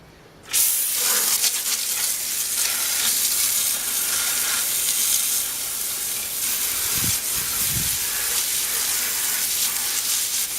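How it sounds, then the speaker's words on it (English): Steady broadband water spray rinsing a dirty car wheel during cleaning, a continuous close hiss that starts abruptly and runs throughout without speech. "Now I'm going to rinse it off, see what we got."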